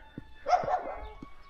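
A dog in a Kalotaszentkirály village street gives a few short barks and a yelping whimper, moderately near but not loud, with short pauses between.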